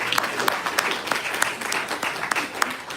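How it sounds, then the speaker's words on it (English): An audience at a talk applauding, with dense, continuous clapping from many hands filling the room at close range, steady and fairly loud throughout. "So give yourselves a round of applause for being here."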